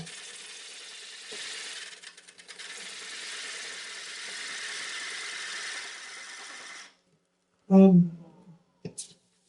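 A lathe spins up to higher RPM while turning a platter, giving a steady broadband whir with faint mechanical ticking for about seven seconds before cutting off, followed by brief louder knocks and handling sounds.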